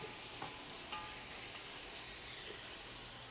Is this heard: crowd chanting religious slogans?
no